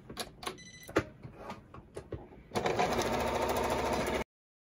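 A sewing machine runs a steady continuous stitching burst on a Santa suit pants inseam, preceded by a few clicks and handling noises, fairly close and moderately loud before stopping abruptly.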